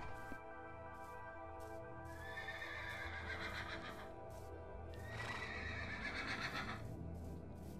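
A Minecraft horse whinnies loudly twice over steady clip-clopping hooves and a constant electronic background hum, with no talking.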